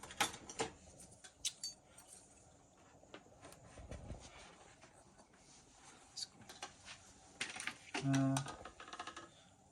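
A plastic HK-160 knitting machine casting on fabric gives faint, irregular clacks and rattling as the carriage passes, with a brief squeak near the end.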